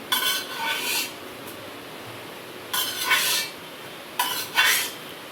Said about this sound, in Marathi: याच्यामध्ये गाळणीमध्ये घेऊन आपल्याला गाळून हे करून घ्यायचे आहे, ज्यूस बनवून घ्यायचा आहे